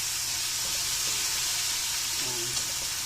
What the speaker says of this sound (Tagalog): Mix na natin yung ating takway.